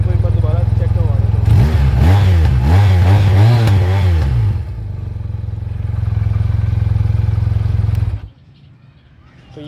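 A Bullet 1 Motorsports 400cc dual-cylinder water-cooled Z1000R replica motorcycle revs in several rising and falling bursts close by, then settles into a steady idle before the engine cuts off.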